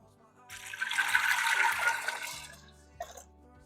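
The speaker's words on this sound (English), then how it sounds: "Then I'm going to put in 4 cups of water." Four cups of water pour into a quick cooker holding rinsed pinto beans, a steady splashing gush lasting about two seconds, then a brief clunk as pouring stops.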